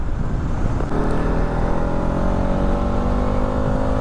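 A Bajaj NS200 BS6 motorcycle revs through its exhaust, a loud, close, steady engine roar with a sharp blip near the start, then a sustained rising drone with no talk.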